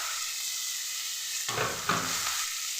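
Spinach and green chillies fry in a pan with a steady, quiet sizzle, and a stir partway through brings a brief burst of louder scraping and crackle.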